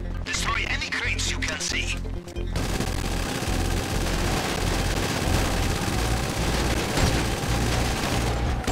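Rapid bursts of automatic gunfire rattle continuously in a game soundscape, loud and sustained, with brief voices and other sounds at the start.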